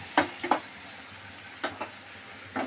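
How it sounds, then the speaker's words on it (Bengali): Katla fish fries in a pan with a faint, even sizzle, broken by a few sharp spatula clinks and scrapes as it is turned, with no talking. "কাতল ভাজা হচ্ছে"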